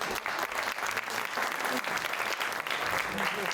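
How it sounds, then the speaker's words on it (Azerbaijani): Loud, dense applause from a studio audience at a comedy show, continuous and close for the whole stretch with no pauses. "Gürültülü bir alqışlar."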